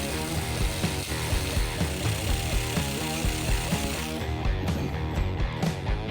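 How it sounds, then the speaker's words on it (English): A power drill bores a hole in a car hood to fit a hood pin, whirring and grinding loudly and continuously at close range before easing off near the end. "I was able to get it drilled just enough to fit the pin down in it"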